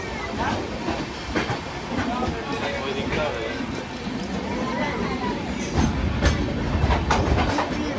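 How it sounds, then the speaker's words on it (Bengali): An express train runs along the Konkan Railway during the monsoon, with a steady broad rumble and rattle of the carriages continuing throughout and a slight swell near the end. "ট্রেন এখন ঢুকবে আমার মনে হয় টানেলে"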